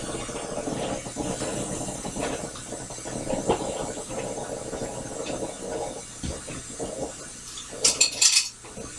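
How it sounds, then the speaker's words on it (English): A whisk stirs pumpkin pie spice, nutmeg and allspice together in a bowl with a steady, close scraping and clinking that rises into brisk metallic rattles at the end. "I'm just going to whisk this all together."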